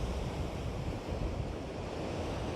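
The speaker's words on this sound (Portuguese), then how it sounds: "Olha aí as ondas." Surf rolls onto a beach in a dense, continuous wash close to the microphone, with heavy wind rumble underneath and no voices.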